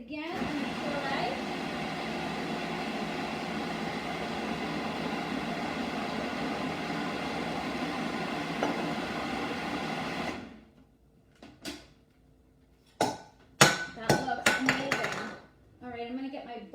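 A blender pureeing tomato gazpacho runs as a steady loud motor whir for about ten seconds, then stops, followed by clinks of dishes and utensils.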